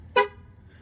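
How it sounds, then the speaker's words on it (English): A Chevy Bolt EV horn gives a single short chirp during a tire-pressure sensor relearn, close and clear against faint background quiet. "The car beeps once,"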